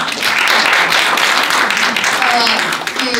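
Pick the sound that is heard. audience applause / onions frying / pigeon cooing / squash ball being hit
audience applause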